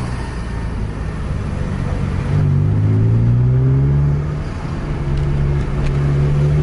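A PMTOH 1626 bus engine drones loudly and climbs in pitch as it accelerates, a steady close roar with rising tonal whine and no voices.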